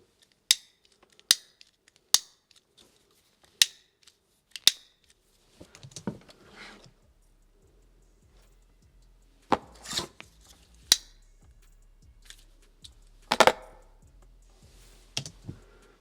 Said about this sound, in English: Then I have to listen to the lighter, because there's a lighter involved that is already audible.